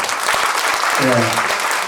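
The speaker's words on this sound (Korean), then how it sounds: "박수 한번 쳐주세요." Applause at a Busan Lions Club second anniversary and president's inauguration ceremony, brisk clapping from the gathering with a voice speaking briefly over it midway.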